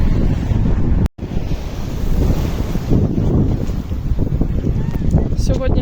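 Sea surf washes onto a beach amid strong wind buffeting the microphone, a loud, continuous roar with a brief dropout near the start.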